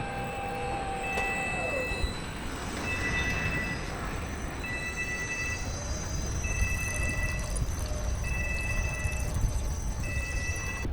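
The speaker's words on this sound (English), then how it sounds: "how often do you see an intermodal train being unloaded?" Near a rail yard by the Danube between Vienna and Bratislava, an intermodal freight train is unloaded amid a broad rumbling roar, with repeated high beeping tones in a steady on-off pattern and faint squealing.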